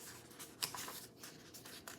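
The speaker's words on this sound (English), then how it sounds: "Having a hard time turning the pages." Faint, close rustling and light paper swishes as a children's picture book's pages are handled and turned, a few soft bursts with no voices.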